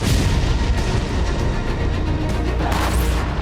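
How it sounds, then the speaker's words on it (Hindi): Artillery fire and missile launches in wartime Ukraine, a loud, continuous dense rumble of booms and blasts with no clear gaps. "मिसाइलें लॉन्च होने लग गई।"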